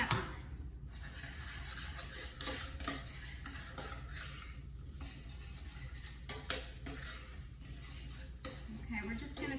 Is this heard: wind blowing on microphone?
no